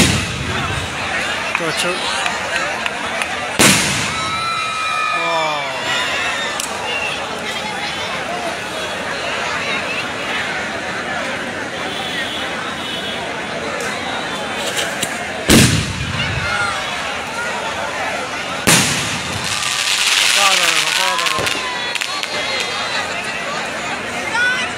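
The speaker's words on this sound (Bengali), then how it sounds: "পুরো এলাকা নিয়ে মাঠ জুড়ে সেল ফাটছে।" Large firework shells burst over an open field at a village fireworks display, several loud booming cracks spaced seconds apart, followed by crackling, with a crowd murmuring and someone talking throughout.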